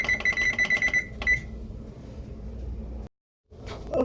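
A kitchen timer, set for ten minutes while a kale quiche cooks, rings with rapid repeated beeping bursts, then falls quiet amid faint room noise, close by and with no voices.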